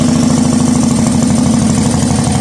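A 2019 Harley-Davidson Softail Slim with a 107 engine, Fueling 472 cam and quiet baffle, running steadily close up, a loud, even, throbbing idle with a rapid pulsing beat.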